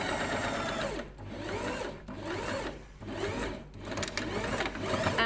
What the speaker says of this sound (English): And of course finish with a reverse stitch.